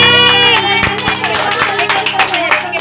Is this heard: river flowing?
no